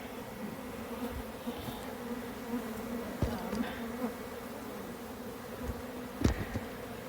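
Steady insect buzzing from many honeybees being shaken off near a hive during hive work, a continuous drone with occasional louder close passes and faint handling noises.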